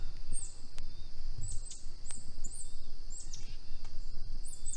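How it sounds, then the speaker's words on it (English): Faint, high bird chirps repeat at a steady pace over a soft outdoor hiss, small birds calling among trees at Argyle Lake State Park, Illinois. "Can you hear the birds?"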